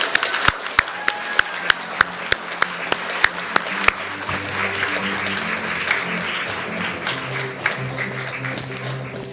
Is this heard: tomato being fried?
no